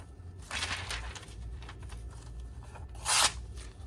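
Knife blade slicing through very thin paper, two soft papery swishes followed by a sharper, louder tearing cut, close and quiet with no talk.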